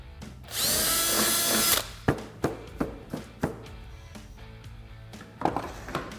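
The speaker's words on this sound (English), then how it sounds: "get an 8mm drill bit and drill all of the holes that are in this lower windshield" Cordless power drill with an 8mm bit boring through the plastic dash of a Can-Am Defender UTV, a loud steady whine lasting about a second, followed by a series of sharp taps and knocks.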